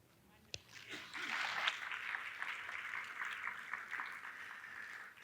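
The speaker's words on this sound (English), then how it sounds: "So a big round of applause to" Conference audience applause at a COMENSA event, a sharp onset followed by steady mid-level clapping from a seated crowd that holds evenly to the end.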